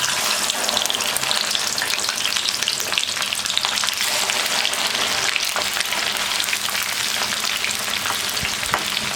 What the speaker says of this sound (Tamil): ஒரு கடாயில் எண்ணெய் வச்சு இப்போ வெண்டைக்காய் வந்து நம்ம எண்ணெயில் வந்து பொரிச்சு எடுத்துக்கலாம்